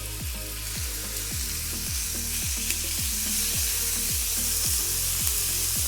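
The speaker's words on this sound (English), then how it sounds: "we can put our beef into that and sort of stir fry that off" Beef stir-frying in hot oil in a pan for a steak and mushroom pasta: a loud, constant sizzle with a regular pulsing rhythm of repeated scraping strokes underneath, no talking.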